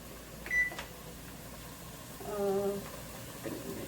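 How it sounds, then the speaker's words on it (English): An oven's control panel being set to preheat to 350, giving a short electronic beep followed by a longer tonal chime, faint over a quiet kitchen hum. "I'm gonna preheat my oven to 350."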